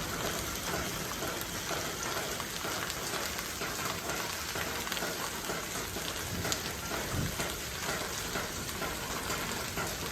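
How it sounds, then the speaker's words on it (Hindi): Heavy rain pours down steadily in a dense, continuous hiss of drops that never lets up, on a mountain road near Someshwar. "बारिश हो रही है झमाझम"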